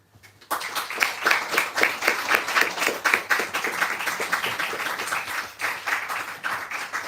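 Audience applause at a book fair program launch for readers, steady dense clapping that starts abruptly after a short silence and continues evenly at moderate loudness, heard without talk.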